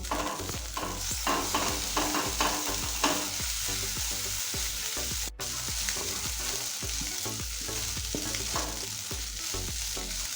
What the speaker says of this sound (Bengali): এবার এর মধ্যে একে একে কিছুটা সয়া সস টমেটো সস ভালো করে মিশিয়ে নেব